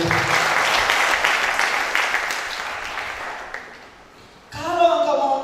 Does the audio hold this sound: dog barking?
no